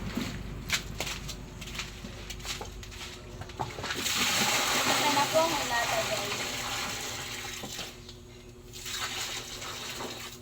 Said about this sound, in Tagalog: Ang gagawin ko po ay lalagyan ko po ng tubig yung kanya pong ginawa.